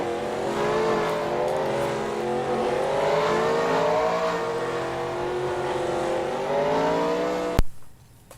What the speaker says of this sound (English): cars leaving their pit road